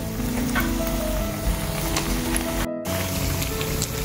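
Pakoras frying in a pan of hot oil give a continuous bubbling sizzle close by with no pauses, with a brief dropout near the end and no speech.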